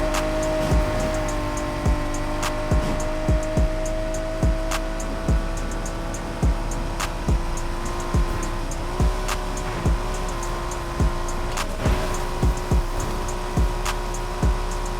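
A Nissan Skyline R34 race build with a forged RB26 engine swap in Need For Speed Heat roars through a corner, a sustained engine drone with shifting pitch and rhythmic sharp clicks and ticks layered over it, with no talk.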